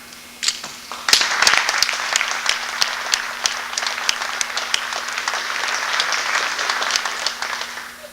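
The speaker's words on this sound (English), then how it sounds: "let's give them a round of applause" Audience applause at a 50th anniversary awards banquet, starting with a few sharp claps and swelling into sustained, fairly loud clapping from a seated crowd that carries on evenly to the end.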